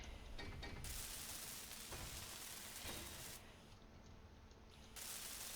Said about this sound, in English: So I can weld this up fully.